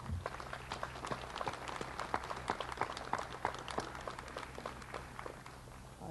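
Scattered applause from an outdoor ceremony audience at a rail trail dedication, faint and distant, made of sparse, uneven individual claps with a low background hum.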